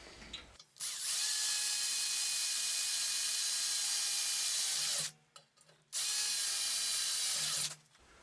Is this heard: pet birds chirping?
no